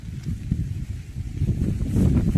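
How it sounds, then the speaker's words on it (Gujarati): Strong wind buffets the microphone in a continuous low roar, rising slightly toward the end. "બહુ પવન છે આમાં"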